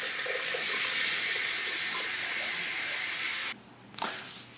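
Tap water from a bathroom sink faucet, just after a cleaned drain trap is refitted, runs in a steady close hiss for about three and a half seconds, then cuts off, followed by faint drips and gurgles.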